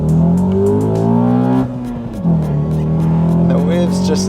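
A Honda Accord CL9 fitted with a Type R gearset revs loudly in first gear, its engine note climbing steadily and then dipping briefly before rising again, heard close from inside the car.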